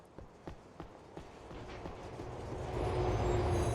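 Train riding in a GTA game, with a rhythmic clacking of wheels over rail joints at a steady pace, then a swelling rumbling roar that grows louder toward the end.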